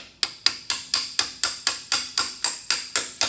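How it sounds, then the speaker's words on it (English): A long head bolt taps a rusted, corroded bolt upward through deteriorating square steel tubing on a Farmall F20 tractor frame, giving about thirteen sharp, evenly spaced metallic strikes with ringing decays. "and using it to tap this bolt up"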